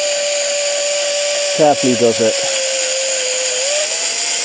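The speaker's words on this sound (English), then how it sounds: "gradually increasing the drill bit." A power drill bores a hole into the frame of a full-suspension e-bike being converted, giving a steady, even motor whine that runs throughout while a person speaks briefly midway.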